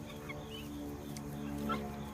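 Ducks make soft honks and quacks, a few faint calls over a low, humming background, fairly distant and quiet with no talking.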